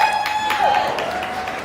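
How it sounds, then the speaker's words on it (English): An audience applauds a drag performer at a drag competition show, a short, dense burst of clapping with a faint sustained tone running through it and some voices mixed in. "Why don't we give her a round of applause?"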